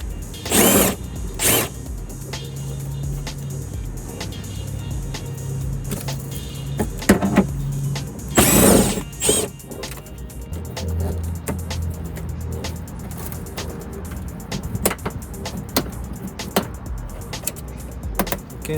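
A 10mm socket wrench works fender flare bolts loose on a Toyota Tundra truck. Bursts of fast ratcheting clicks and a couple of louder mechanical whirs stand out from scattered taps and handling clatter, with no talking.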